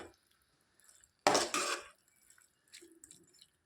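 A spoon stirs a tomato and spinach curry in a pot, making one short burst of scraping and clattering, followed by a few faint taps and rattles in an otherwise quiet kitchen.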